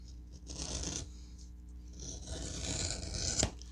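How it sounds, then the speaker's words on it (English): Corners are trimmed off a kilt strap in two close cutting passes, each a short, dry, rasping snip-and-scrape, separated by a brief quiet gap. "I'm going to cut off the corners and cut off the corners and cut off the corners"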